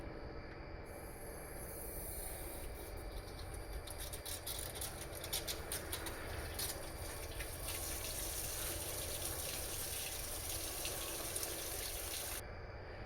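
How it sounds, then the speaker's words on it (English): Water pours and splashes steadily out of a 1978 Continental Mark V cooling system during a back flush, a continuous close rushing patter with no talk. "I'm watching the water coming out and it's mostly clear now. Back flushing."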